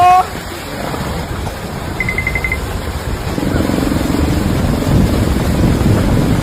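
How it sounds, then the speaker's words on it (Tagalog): Strong, steady wind from a typhoon roars and buffets close by, a broad rushing noise that swells a little louder midway through, with no talking. "Lumalakas pa yung hangin."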